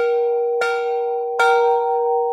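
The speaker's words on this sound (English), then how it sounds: "Let's ring the bell." A bell at a charity fundraiser evening is struck twice, each ring a clear sustained tone that rings on and overlaps, loud and close with no talk.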